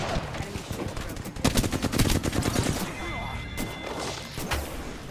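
Gunfire in the video game Apex Legends: dense bursts of shots with impact crashes peaking midway, then scattered single shots, with a player talking over the firefight.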